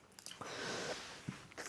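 Chewing and biting on a caramel sweet, close to the mic, with moist crunching and squishy bites spread through a short stretch alone, plus a sharp click at the end.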